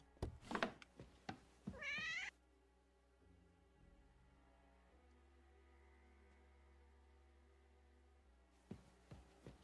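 In the Kingdom Come Deliverance 2 video game, a cat gives a few short meows in a quick cluster near the start, followed by a long stretch of quiet ambience and a few faint knocks near the end, with no talking.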